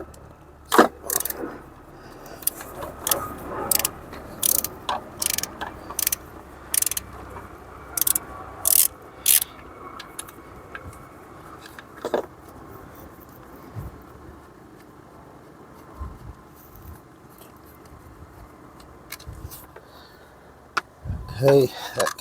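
Ratcheting 13 mm socket wrench loosening the battery cable nut on a Jaguar XF during alternator work, a series of short clicking bursts spread across the clip, close and fairly crisp, with faint background noise between.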